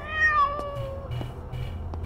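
Cat meowing in the video game Frightence, a few clear rising-and-falling meows over a low background hum, close and fairly loud, with no talking.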